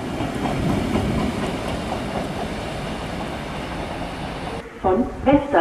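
Diesel regional train on the non-electrified Marschbahn line to the North Sea, rolling steadily with a continuous rumble and wheel clatter for several seconds before quieter station sounds and louder tonal bursts near the end.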